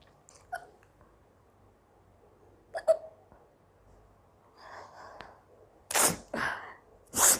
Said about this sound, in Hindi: मुझे हिचकी इतनी आ रही है